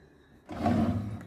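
A single short scrape as a drawer slides along its runners, starting abruptly after a moment of quiet and rolling smoothly for under a second.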